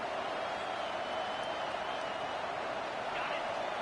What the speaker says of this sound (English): This crowd bringing serious noise on this huge 4th down play